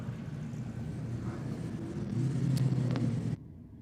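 A VS Commodore drag car racing at night against an LX, engine rumbling deep and building on boost to a louder roar before cutting off abruptly, heard at a distance.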